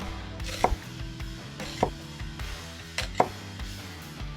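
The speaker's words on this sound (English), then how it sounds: "I'm going to go ahead and dice up my onion" A knife slicing an onion into thin slices on a cutting board, with steady rhythmic chops and a few sharper, louder strikes, close and clear with no talk.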